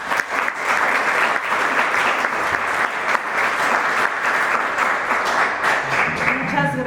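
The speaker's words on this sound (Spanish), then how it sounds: "Les pido un aplauso para recibir a la doctora Letia Vázquez" An audience at a panel discussion on biodegradable plastics in Guadalajara applauds to welcome a speaker, with steady, dense clapping filling the room at an even level from start to finish.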